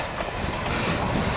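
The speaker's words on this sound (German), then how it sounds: "So, da ist die Brockenbahn." Brockenbahn narrow-gauge train running through the Harz mountains, a steady close rumble of wheels and rail noise filling the whole short stretch without voices.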